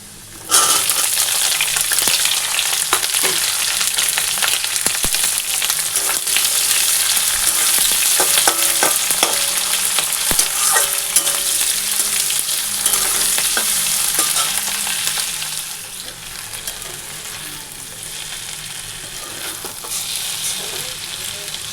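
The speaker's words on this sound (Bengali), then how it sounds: "এই মাছ দিয়ে একটু নাড়াচাড়া করে নামিয়ে দেবো" Fish chachchari sizzles steadily in a pan while being stirred, a dense continuous frying hiss with occasional scraping strokes, loud and close, easing slightly toward the end; no voices.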